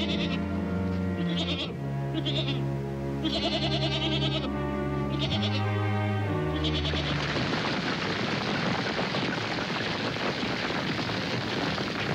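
Several goats bleat in overlapping, wavering cries, loud and close, before a harsh, noisy rush of sound takes over.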